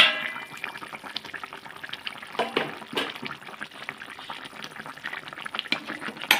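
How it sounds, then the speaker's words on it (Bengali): Rohu fish in a mustard paste sauce with green chilli simmering in a pan, a steady bubbling and popping with a crackling liquid texture throughout. "এই পর্যায়ে এখন 5 থেকে 7 মিনিট মাছটাকে আমি ফুটতে দেবো।"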